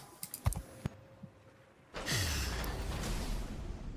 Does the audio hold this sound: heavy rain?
no